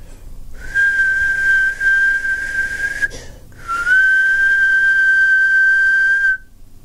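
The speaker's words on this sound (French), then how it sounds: "je vais donc siffler, l'enregistrer." A person whistles two long, steady single-pitch notes, clear and loud, separated by a short pause.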